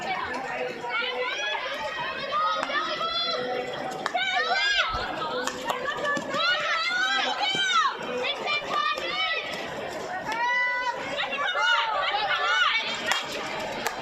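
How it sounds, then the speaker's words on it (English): Hockey spectators at a women's grand final cheer, shout and chat, a dense crowd hubbub with excited high voices rising and falling throughout, fairly close. "You hear some renewed excitement in the crowd now."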